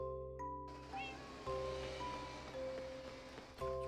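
A cat meows in Minecraft, a video game, a few short tonal calls under soft ambient background noise and a brief chime.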